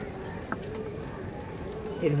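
Punjabi pigeons cooing at a pigeon sale, with soft low coos repeating over steady background noise and nearby voices.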